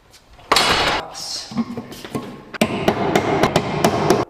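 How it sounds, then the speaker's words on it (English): Screws are tapped in with a hammer in a workshop being wired for power, heard as a series of sharp metallic knocks, a few spaced early on and then a quicker run of taps close by. "if you want to hammer them in, I'll tap 2 screws in it"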